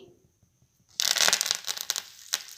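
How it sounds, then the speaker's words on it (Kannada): Mustard seeds spluttering in hot oil for tempering: after a quiet start with faint background hum, a loud, dense burst of crackling pops comes in close and continues with irregular sharp snaps. "ಸ್ವಲ್ಪ ಸಾಸಿವೆ ಚಟಪಟ ಅನ್ನಬೇಕು"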